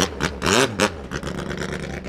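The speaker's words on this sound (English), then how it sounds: "these things with ITBs and like the titanium headers and straight pipe sound so" A Toyota 5K engine fitted with individual throttle bodies, titanium headers and a straight pipe, used on a Thai longtail racing boat, revs in short loud bursts with a raspy, harmonic-rich tone, close up.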